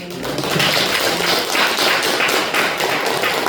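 A crowd claps in a dense, steady burst of applause lasting a few seconds, many hands at once and fairly close.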